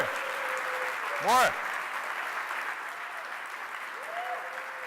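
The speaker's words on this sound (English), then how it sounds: "I want you to stand up and give the warmest applause" Audience applause at a startup conference welcome session in Barcelona, a steady broadband wash of clapping from a crowd sustained throughout, with a brief louder burst and faint tonal voice-like sounds near the start.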